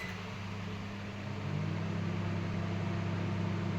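A Haier HIL 3001 air fryer microwave runs in grill mode with a steady, faint mechanical hum and fan whir that grows slightly louder partway through, with no talking.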